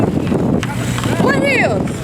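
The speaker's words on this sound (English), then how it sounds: "I don't know if y'all can hear me because it's windy." Wind buffets an outdoor microphone in a steady broadband rumble throughout, with a voice talking over it near the end.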